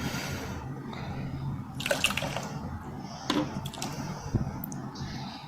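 Blended drink being strained into a water-filled cup, giving soft intermittent splashes and trickles at close range over a low background rumble, with a few sharper clinks of the strainer against the cup.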